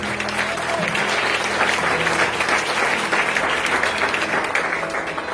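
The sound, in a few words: applause for God in church service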